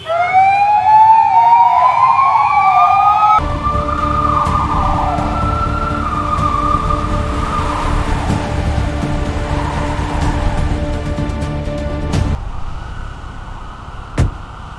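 An ambulance siren wails loud and close on a road where a convoy has stopped, first rising and falling, then switching to a steadier, harsher tone with a brief burst near the end.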